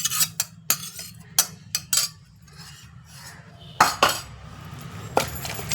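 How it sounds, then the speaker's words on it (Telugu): Stone mortar and pestle working fried drumstick leaves and tomato into chutney, sharp clacks and knocks in an irregular rhythm with softer grinding scrapes between them, close by. "వేయించుకున్న ములగాకు టమాటా రోట్లో వేసేసి మెత్తగా నూరేద్దాం"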